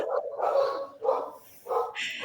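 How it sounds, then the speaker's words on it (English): Several dogs bark in the background of a home video call, a few loud bursts spaced across the moment with short pauses between them. "So sorry, my dogs."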